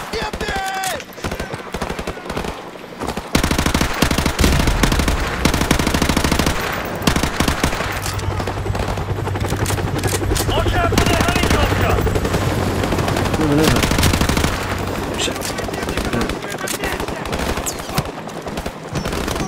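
Rapid bursts of automatic machine gun fire from Call of Duty: Modern Warfare Remastered, loud and sustained in long rattling volleys with gunshots and explosions in a chaotic firefight, no talking.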